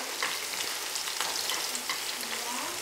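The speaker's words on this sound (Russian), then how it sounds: "Здесь у меня лучок уже попассеровался. Я в него добавляю морковочку." Carrot tipped into onion already sautéed in a pan, frying with a steady broadband sizzle and light stirring scrapes, close and continuous with no talking.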